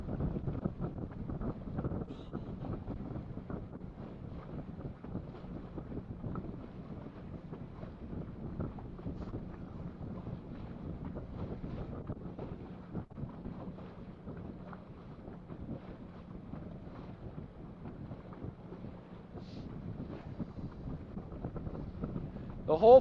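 Steady, heavy wind noise buffets the microphone in a continuous roar during a vintage sailboat race, with strong gusts sweeping across the water and through shoreside trees and no clear speech.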